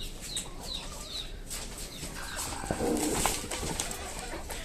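Chickens on a small poultry farm, with soft cooing and clucking calls repeating through steady low barn ambience, fairly faint and without talk.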